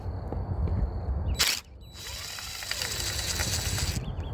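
A ratchet on quarter-inch extensions works loose a bolt during a cracked piston replacement on a Chevy Cruze engine, giving a brief burst and then a sustained close mechanical whir and clicking.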